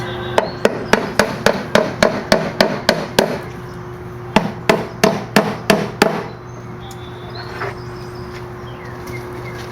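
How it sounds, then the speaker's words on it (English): Roofing nails are hammered through weed block fabric in an outdoor garden box, sounding as a rapid series of about a dozen sharp, evenly spaced strikes. A pause follows, then a shorter burst of blows, with birds chirping faintly behind. "so now I'm just nailing the weed block fabric block in place so it stays"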